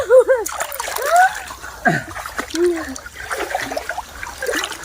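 A dog bathing outdoors on a hot day sends up loud, close splashes and sloshing water, mixed with voices and a high, whining vocal sound.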